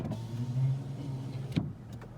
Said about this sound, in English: One thing that's nice to point out here is the power rear window.